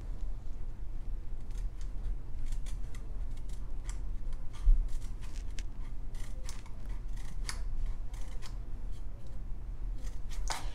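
Scissors cut relief slits into a tube for a Predator 212cc powered bike build, a series of crisp irregular snips spread through the clip over a low steady hum, with no one speaking.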